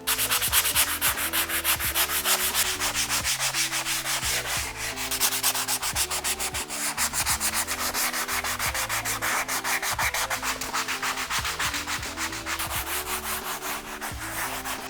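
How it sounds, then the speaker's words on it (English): Steady, continuous abrasive rubbing as sandpaper works over the leather surfaces of a Volvo 850R driver's seat, close and loud, with rapid back-and-forth strokes and no talking throughout. "I'm going to start by sanding all of the leather surfaces."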